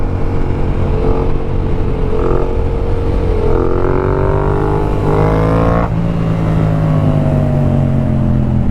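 A motorcycle engine revs hard during a wheelie, with a steady drone broken by several rising throttle surges that climb in pitch, then ease back to a falling, lower note near the end.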